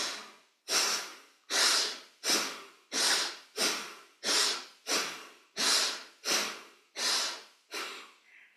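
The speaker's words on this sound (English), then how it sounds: "We will forcefully inhale as we move our arms up, open the palms. Exhale, make fists and bring them down again." Forceful breathing exercise with arm movements, a rapid run of about ten loud, sharp breaths in a steady rhythm, each a short burst of rushing air close to the mic.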